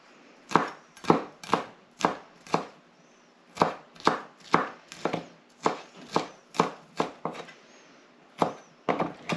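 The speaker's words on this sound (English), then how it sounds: "just run your knife along" A knife chops crispy taco ingredients on a board in a steady run of sharp, close knocks, about two per second, with a short pause near the end before the chopping resumes.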